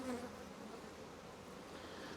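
Honeybees at an opened hive that nearly died out over winter, droning in a dense, continuous buzz that stays close and fairly even throughout with no talking.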